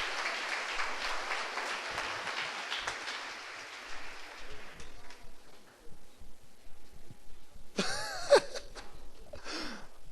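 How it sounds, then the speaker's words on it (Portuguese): Church congregation clapping in praise to God, a dense wash of applause over the first five seconds that fades out, followed by scattered voices and brief shouts. "Vamos dar uma salva de palmas a Deus"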